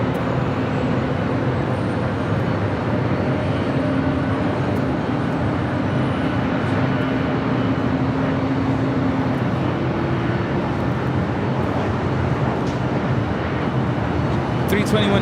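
A Delta Airbus A320neo taking off from runway 24 left at LAX, heard as a steady broad jet roar that lasts throughout, with someone talking over it.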